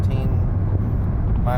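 A 2009 Chevrolet Equinox cruises at about 60 mph, its steady road and engine drone filling the cabin with a continuous low rumble, with no pauses.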